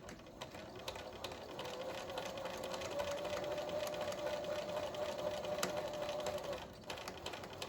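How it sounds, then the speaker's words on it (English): A sewing machine runs steadily as it stitches quilt block fabric pieces together for a windy pinwheel pattern, making a continuous, faint mechanical whir with a humming tone through the middle before stopping near the end. "Take the bottom two, line them up, and sew them together."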